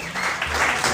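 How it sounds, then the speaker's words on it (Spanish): Audience applause at a rock concert by a tribute band, a brief crowd roar and clapping under the ringing tail of amplified music, loud and close for under a second. "Un aplauso para Charlie, por favor."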